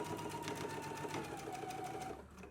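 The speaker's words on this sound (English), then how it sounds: "Let's go ahead and stitch it now." Sewing machine running steadily as it stitches a seam on a garment, a continuous close whirring hum with a fast rhythmic needle pulse that slows slightly near the end, no talking.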